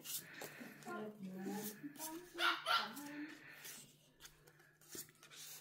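A dog barks and yips during a casual indoor gathering where friends play the card game pusoy and do pedicures, with the barks mixed in under near, steady conversation.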